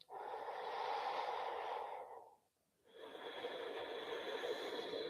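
A long, steady inhale and exhale during a yoga session, the breath broad and airy, briefly pausing before a second full breath follows, close and alone with no talking.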